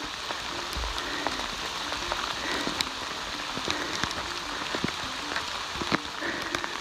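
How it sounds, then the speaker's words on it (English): Steady rain falls on the Appalachian Trail in Georgia on a wet morning, an even, moderately quiet hiss of drops with scattered small taps and no talking. "listen to that rain."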